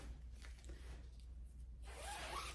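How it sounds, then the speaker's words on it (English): A zipper on the back of a lace dress being drawn, a quiet close rasp that builds near the end after soft handling sounds. "It does have its zipper."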